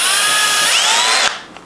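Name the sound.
drilling into a car ball joint clamped in a vise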